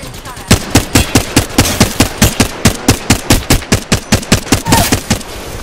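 Rapid automatic gunfire in Apex Legends, a steady stream of loud, close shots at an even fast rhythm lasting several seconds, with no talk over it.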